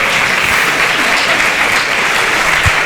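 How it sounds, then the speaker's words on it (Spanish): Dense, steady applause from a crowd at a gathering where a keepsake gift is being presented, loud and continuous for the whole stretch with no talk. "Un aplauso."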